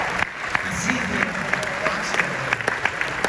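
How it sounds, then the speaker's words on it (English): Conference audience at WealthCon applauding a participant, continuous clapping with sharp individual claps standing out and voices murmuring underneath. "Give a round of applause."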